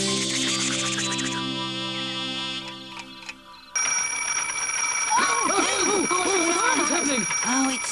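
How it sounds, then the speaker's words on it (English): An alarm clock rings in a 1999 children's TV show: a steady, bright electronic ringing tone starts partway through after a musical passage, while voices talk excitedly over it. "Oh, it's Timothy's new alarm clock."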